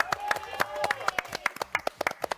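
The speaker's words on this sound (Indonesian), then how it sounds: "tepuk tangan dong buat kita semua" Scattered audience clapping at a live J-pop band show, a string of separate sharp claps in a loose uneven rhythm, fairly quiet, with voices chattering underneath.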